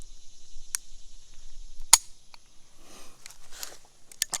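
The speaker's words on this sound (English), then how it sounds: "So as you're pulling out, you hear that click, right?" A handgun's manual safety gives a few sharp, crisp clicks as it is drawn, close and quiet, with faint handling rustle between them and no talking.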